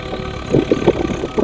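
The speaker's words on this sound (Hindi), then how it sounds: "शायद ट्रैक्टर आ रहा है, नीचे शायद ट्रैक्टर किसी कार्य के लिए चढ़ाया गया हो।" A tractor engine by the Sivani river rumbles with a low, uneven chugging pulse, heard at moderate distance with no voices.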